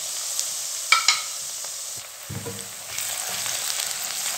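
Ginger paste frying with onions in a pan for white pea pulao, a close hiss with a couple of sharp spoon knocks early on and a renewed sizzle in the second half, no voices.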